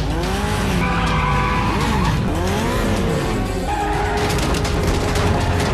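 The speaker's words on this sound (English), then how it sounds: "He'd just slam on his brakes and make you go whoop," A car in a TV show's street chase braking hard, its tires skidding and squealing in several loud, wavering screeches over engine roar, with a dull thump midway.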